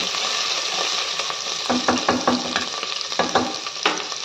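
Ginger sizzling in hot oil in a pan while being stirred for Pesara Pappu Pongal, a continuous close frying hiss broken by several clinking scrapes of a spoon against the pan.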